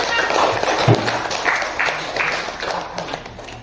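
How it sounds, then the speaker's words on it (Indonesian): A classroom audience of students claps hands together, a loose burst of applause with a few voices mixed in, fairly close and moderately loud. "Tepuk tangan dulu."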